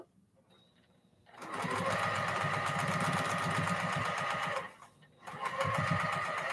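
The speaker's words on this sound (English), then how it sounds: "I be stitching backwards, y'all, to lock in my stitches." A sewing machine on log cabin quilt blocks stitches backwards to lock the seam, its motor running close and steady in two sustained bursts split by a brief pause.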